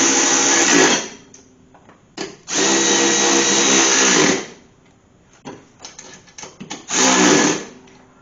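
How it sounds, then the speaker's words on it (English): An electric ratchet runs on spindle bolts of a Craftsman riding mower: several loud whirring bursts of one to two seconds each, separated by quieter gaps with small clicks, close by and with no talk. "Supposedly this ratchet puts out 35 foot-pounds"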